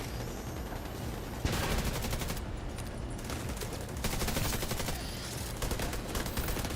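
A tank opens fire in The Division 2, a continuous loud barrage of rapid automatic shots and impacts filling the scene, with dense rattling bursts that pause briefly and resume.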